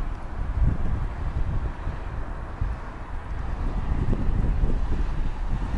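Wind blusters across the microphone at a high lookout in Tomar, Portugal, a steady low rumbling roar that swells and dips for the full length, with no voices.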